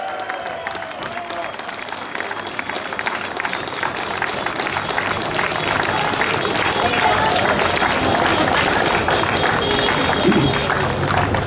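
A large audience at a democracy festival gives a sustained, dense round of applause to welcome a speaker to the stage. The clapping swells and holds steady throughout, with crowd voices mixed in.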